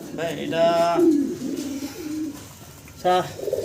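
Pigeons coo in low, rolling murmurs close by, mixed with bursts of a human voice near the start and again toward the end.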